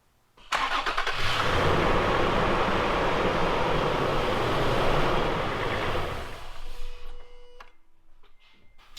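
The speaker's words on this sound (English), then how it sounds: "we're going to turn the engine on now and let it run for a few minutes" A Toyota FJ Cruiser's engine starts after an oil change and runs at a steady idle, loud and close for several seconds, then shuts off and leaves quiet workshop sounds.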